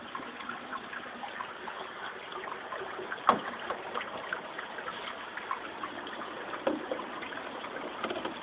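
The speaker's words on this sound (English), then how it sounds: "Now the tank is going to start filling again." Water steadily refilling a bell-less aquaponics tank after a U-shaped auto-siphon breaks, a continuous close gushing and trickling wash with a couple of brief louder splashes, no voices.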